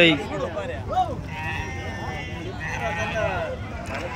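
Goats bleat at a livestock market, several wavering cries rising and falling close by over a busy murmur of crowd noise and voices.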